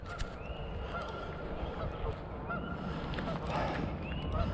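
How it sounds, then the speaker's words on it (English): Geese honk repeatedly at a small park lake along a hiking trail at Eagle Creek Park in Indianapolis, their calls rising over a steady outdoor wash, moderately near and fairly loud. "The geese are out and about, as you can see."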